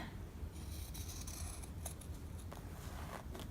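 Scissors snip through recycled denim jeans, a faint run of crisp, irregular cutting crunches close by, with no talking over them.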